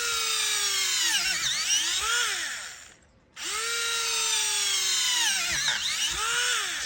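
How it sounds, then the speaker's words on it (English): A small Tamiya hobby drill with an old multi-tool bit whines steadily as it bores into a piece of plastic, its pitch sagging and recovering under load, with a brief pause partway before it runs up again. "we'll see if we can drill through here."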